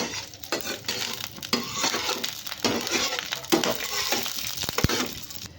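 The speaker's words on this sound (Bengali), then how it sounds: "ঘিতে কাজুগুলো হালকা করে ভেজে নেব এই যে কিশমিশগুলো দিয়ে দিলাম ভেজে নেব হালকা করে" Cashews and raisins frying in ghee in a pan, with sizzling and scraping stirring and clinks of a utensil against the pan, uneven bursts of activity while a voice talks over it.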